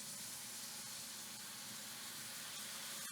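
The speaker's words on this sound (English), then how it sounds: "Be careful, it's going to steam." Water poured into a hot pan of onions and chilies while cooking spicy seitan sausage, giving a steady, loud broadband steam hiss and sizzle that holds evenly for about three seconds, close and alone.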